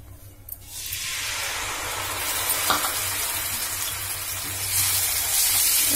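A ginger and cumin paste hits hot oil for a parwal curry and sizzles loudly and steadily, with stirring scrapes in the pan and the hiss swelling again toward the end.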